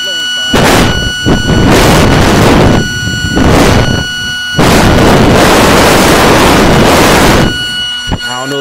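A Coleman rechargeable Quick Pump blows air in loud, roaring bursts close to the microphone, several long blasts separated by short gaps.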